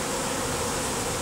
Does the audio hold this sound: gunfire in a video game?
no